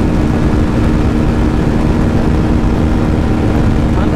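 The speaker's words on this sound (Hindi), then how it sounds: "अभी तो टॉप स्पीड देखते हैं अभी आरटीआर 310 की क्या जाती है अर्बन मोड में। सिक्स्थ गियर चल गए" A TVS Apache RTR 310 motorcycle accelerating in sixth gear in urban mode, a loud, steady engine roar mixed with heavy wind rush at high speed, continuous and close for the whole stretch.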